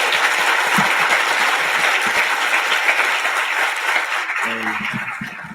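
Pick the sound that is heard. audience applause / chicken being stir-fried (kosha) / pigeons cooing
audience applause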